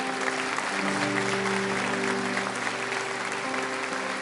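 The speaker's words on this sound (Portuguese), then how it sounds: "Se você crê nisso, dê um aplauso bem forte ao Senhor." Church congregation clapping steadily at a Brazilian Portuguese evangelical service, dense sustained applause filling the room with a few sung or held tones over it, no speech.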